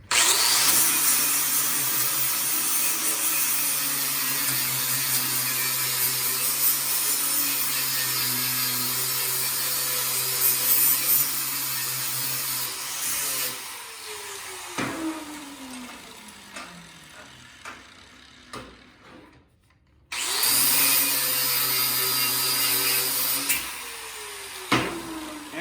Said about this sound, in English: I'm just going to go over just loosely to get any mill scale off.